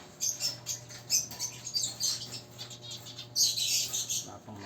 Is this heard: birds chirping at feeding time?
yes